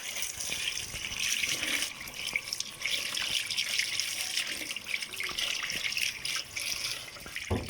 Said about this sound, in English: I'm going to just turn the water temperature up a little bit there.